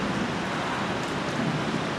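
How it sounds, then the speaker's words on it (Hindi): Heavy rain pours steadily in the mountains during a sudden downpour, a dense continuous hiss that stays loud and even, with no voices over it. "2 मिनट में बारिश शुरू हो गई।"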